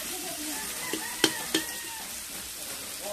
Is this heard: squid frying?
yes